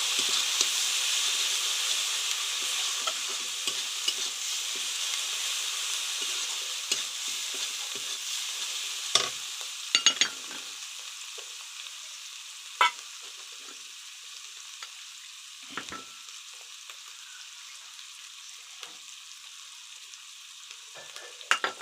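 Potato and pointed gourd curry sizzling and frying steadily in a pan after yogurt is added, a continuous bright hiss with occasional sharp clinks of a spoon stirring against the pot.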